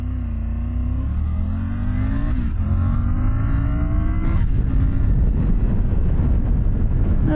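A 2024 Triumph Tiger 900 GT Pro motorcycle accelerates hard from a standstill, its engine note climbing steadily through the revs with quick-shifter gear changes, loud and close over constant wind rush.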